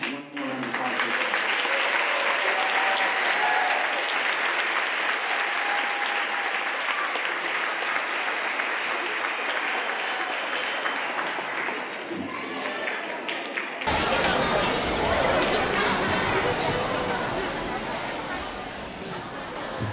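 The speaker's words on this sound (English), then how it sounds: "One more round of applause." Audience at an elementary school spring concert applauding continuously, a dense, loud wash of clapping with crowd chatter mixed in, lasting the whole stretch with a slight lift near the end.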